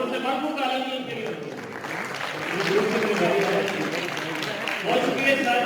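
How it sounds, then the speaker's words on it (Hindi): Audience applause at a calligraphy exhibition of Pakistani artists, sustained clapping from a gathered crowd that swells midway and continues to the end, with some talk mixed in beneath. "भरपूर ताली के लिए"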